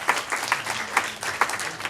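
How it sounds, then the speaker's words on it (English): Audience applause at an education technology meetup, a short burst of close, uneven hand claps from a small crowd, fading quickly. "Give him one more round of applause."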